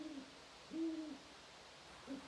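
A puppet's owl-hoot imitation, made by a human voice at a talent-show style play time, giving three soft tonal hoots: a short one, a longer drawn-out one and a brief final one, quiet and alone.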